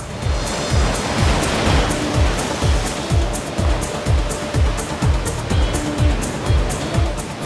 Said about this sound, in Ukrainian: На річці для них створили штучну хвилю.